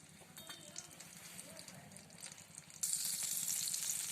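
Cumin seeds drop into melted butter in a hot pan, starting at a low sizzle that jumps to a loud, bright crackling hiss near the end, with a faint voice underneath.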